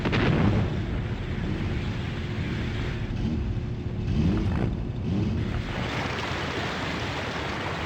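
Dense, continuous rumbling booms of artillery fire from the strategy game Sudden Strike Forever, a steady roar with a few louder swells.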